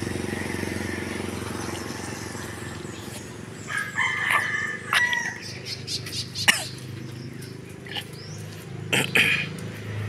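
A rooster crows a couple of times at mid-distance over steady outdoor background noise, with a sharp knock and other farmyard sounds between calls.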